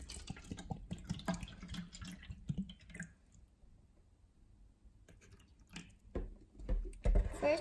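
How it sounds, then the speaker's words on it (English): Water poured into a container ahead of a pH and TDS test, a steady splashing trickle that thins out midway and then returns with a few louder splashes and clinks near the end, close and moderately quiet. "Let's pour some water in."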